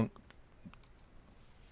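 A computer mouse clicks a few times while a Divi WordPress page is being edited, faint, sharp and brief, with a single clear click near the start and softer ones after it.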